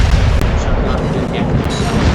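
Battleship secondary guns firing in World of Warships, from the Amagi battleship, as a dense, continuous roar of overlapping booms and gunfire that stays loud throughout with no pause.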